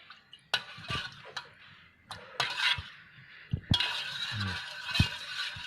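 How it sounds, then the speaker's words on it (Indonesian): Spoon scrapes and clinks against a pot or bowl while yellow rice seasoning is stirred, giving irregular close taps and knocks with short scraping strokes between them and no speech. "Aduk terus sampai rata, jangan sampai ada yang menggumpal"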